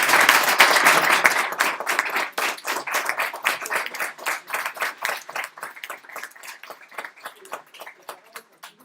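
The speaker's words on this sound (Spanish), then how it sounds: "Un aplauso para" Audience applause at a Mexico City event on human capital training in the space field, starting as a dense burst of clapping and thinning into scattered, separate claps as it fades.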